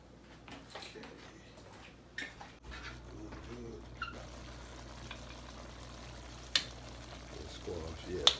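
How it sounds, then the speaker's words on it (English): Squash frying in a pan for a pork vegetable stir fry pasta, a soft, faint continuous sizzle with occasional clinks of a utensil, under quiet background noise. "Squash is cooking down real good."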